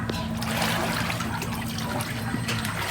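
Water trickling and splashing steadily from a tap as a woman fetches water in Purok 2, Poblacion Sur, where the supply runs dark; a low hum sits beneath the continuous flow, with no talk.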